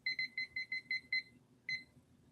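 A cheap kitchen timer alarm rings in rapid repeated electronic beeps, seven quick pulses in a steady rhythm, a pause, then one more beep, fairly faint and close with no talk over it.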